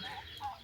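Farm fowl calling in a short, steady burst of clucking and gobbling, moderately close, with no talk over it.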